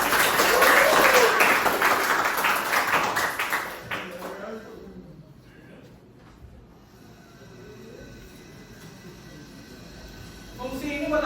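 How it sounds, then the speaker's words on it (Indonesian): Classroom of students clapping at a teacher's prompt, a loud burst of claps for about four seconds that quickly dies away into quiet room noise with scattered faint voices, then a brief rise in sound at the end. "Tepuk tangan dong."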